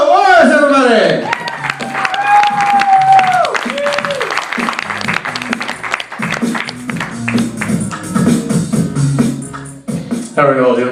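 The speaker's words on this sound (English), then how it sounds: "big round of applause for Joe Orris, everybody!" A stand-up comedy audience claps and cheers as a comedian is brought to the stage, with steady applause running under the voice of the emcee.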